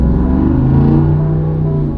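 A Jeep 392 V8 rumbles deep and loud under a light blip of throttle, its steady low growl holding for a couple of seconds up close before easing off.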